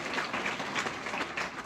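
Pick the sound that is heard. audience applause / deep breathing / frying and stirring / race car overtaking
audience applause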